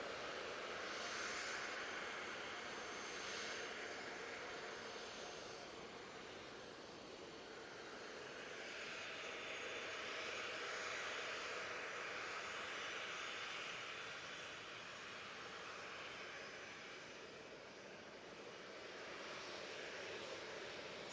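A jet airliner departing Manchester Airport for Amsterdam gives a long, steady broadband roar from a distance, swelling and easing gently over about twenty seconds with no voices.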